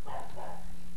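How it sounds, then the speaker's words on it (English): A dog barks a couple of times at a distance, muffled and faint, over a steady low hum. "there's a dog barking in the background"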